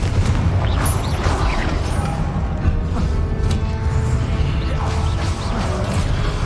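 A Confringo fire spell blast in Hogwarts Legacy, a dense, booming explosive rumble that holds loud and steady throughout, with crackling debris and low thuds layered over a continuous heavy low-end roar.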